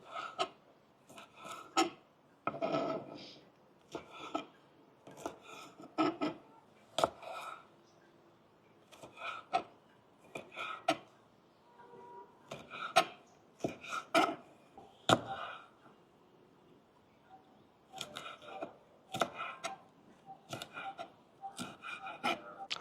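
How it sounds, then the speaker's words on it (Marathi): Okra being cut for a garlic bhindi masala stir-fry, a series of soft, irregular knife strokes and rasping rubs on a board, close but quiet, with pauses between bursts. "आता आपण भाजीसाठी भेंडी कट करून घेऊ।"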